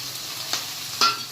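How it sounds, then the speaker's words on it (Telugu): Ridge gourd and tomato pieces frying in a pan, a steady soft sizzle with two brief stirring scrapes, close and fairly quiet, no voices. "మనం ఇప్పుడు ఇందులోనే టమాటా ముక్కలు వేసుకొని ఫ్రై చేసుకున్నాము"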